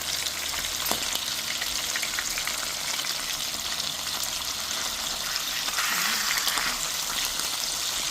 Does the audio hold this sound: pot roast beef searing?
yes